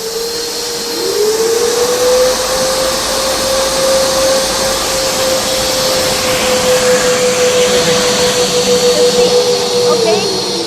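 A BJC1923 industrial vacuum cleaner switches on after about a second and runs steadily at a loud, constant whine and roar for the rest of the stretch, shutting down near the end.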